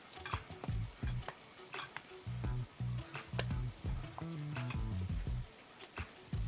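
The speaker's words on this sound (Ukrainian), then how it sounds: "До нашої сирної маси додаємо розтоплений желатин і гарно перемішуємо." A spoon stirs a soft cheese mass with melted gelatin, strawberries and apricots for a no-bake dessert, giving close squelching, scraping strokes in an uneven rhythm with light clinks against the bowl, no voices.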